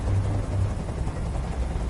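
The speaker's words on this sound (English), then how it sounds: "Tell that helicopter to get out of here!" Helicopter in Detroit: Become Human, a steady low rotor drone with rumbling engine noise filling the short stretch at a constant loud level.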